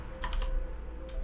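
Brief burst of typing on a computer keyboard, a few quick close keystrokes clustered together and then one more tap, with no talking.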